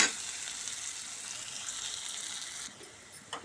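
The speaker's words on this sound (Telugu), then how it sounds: "ఇప్పుడు అల్లం పసుపు వేగింది" Ginger and turmeric fry in hot oil with a faint, continuous hiss and sizzle that drops away slightly toward the end.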